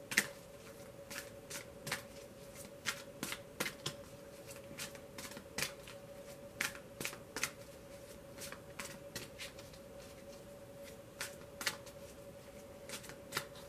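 Tarot cards being shuffled by hand, producing soft, close, irregular riffling snaps and slaps over a steady low hum, with no voices.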